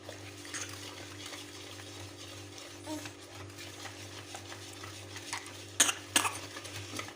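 Cake batter with milk being stirred for a birthday doll cake, a soft continuous scraping and swishing in a bowl under a steady low hum, close by, with a few sharper utensil clinks near the end.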